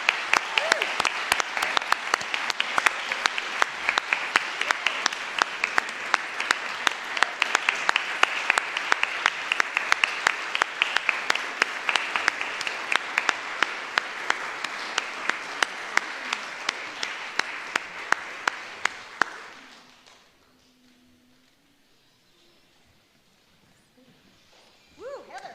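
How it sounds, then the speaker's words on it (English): Audience applause at the New Mexico First Forum 2019 award presentation: sustained, dense clapping from a crowd for about twenty seconds, then it cuts off abruptly into near silence. "Let's all give Heather a round of applause"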